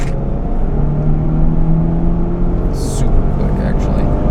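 A 2019 Genesis G80 luxury sedan accelerating at full throttle, a strong, rising engine drone with steady cabin rumble throughout, while people talk over it.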